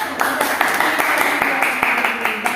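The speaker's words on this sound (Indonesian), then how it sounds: "Tepuk tangan untuk kelompok 1." A classroom group claps for group 1 after its presentation, a short burst of close, fairly loud clapping from a small number of people, with voices mixed in.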